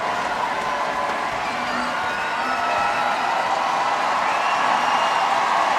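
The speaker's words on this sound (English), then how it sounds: "And listen to this crowd." Crowd in a basketball arena roaring during the FIBA Americas women's championship final between Canada and Cuba, a steady loud cheer with scattered whistles and claps, heard at a distance throughout.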